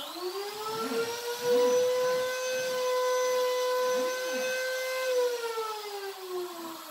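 A DIY CNC router spindle spins up and plunges into the work, giving a loud, steady high-pitched whine with rich overtones and rougher low cutting noise beneath, the pitch drifting slightly over about seven seconds.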